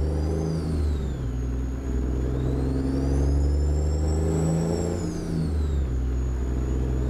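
Z-Mod DD60 diesel engine in a Peterbilt 379 truck in American Truck Simulator, a loud steady in-cab rumble with a whining turbo pitch that rises and falls as the engine pulls.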